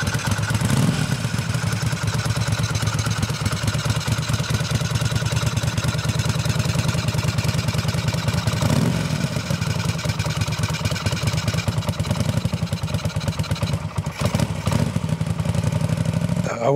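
A Moto Guzzi Le Mans 850 cafe racer with a custom exhaust runs steadily and fairly loud nearby, its low engine drone and exhaust pulses continuous throughout, with a slight rev partway through.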